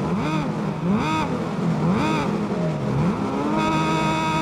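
A racing motorcycle engine in the video game Ride 5 repeatedly revs up and drops through gear changes in a loud, close, continuous whine, with several rising and falling sweeps.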